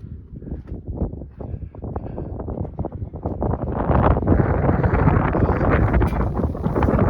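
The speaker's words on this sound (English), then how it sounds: "The wind's cold and it's blowing." Cold wind blowing outdoors beside a Perkins 354T turbo diesel engine, loud buffeting gusts battering the microphone, building steadily stronger and roaring continuously with no voices.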